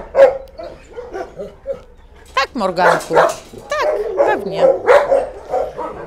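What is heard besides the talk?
dogs barking at an animal shelter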